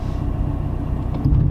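A 400-horsepower big-turbo Mazdaspeed3 pulls hard on a straight, its deep engine rumble steady and close, swelling louder near the end as the revs climb.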